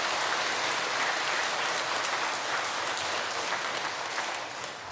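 A church congregation applauds during a Sunday worship service, a steady, moderately quiet wash of many people clapping together that holds evenly and eases slightly at the end.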